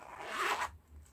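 A single zipper rasps open on a bag of sewing threads, close and quiet, lasting under a second.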